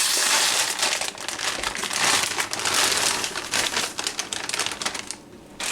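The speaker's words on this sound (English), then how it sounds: "I'm going to add my bread cubes" Bread cubes for chestnut stuffing tumble into a pot of warm stock, giving a dense, close crackling and crinkling rustle that thins toward the end.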